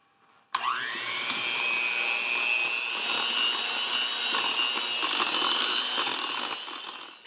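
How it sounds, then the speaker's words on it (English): An electric mixer blends pumpkin puree into spiced pumpkin cheesecake batter. It switches on abruptly, then a steady whining motor hum holds at a high pitch, loud and close, for several seconds without talking. "Lastly, add the pumpkin puree and mix until blended."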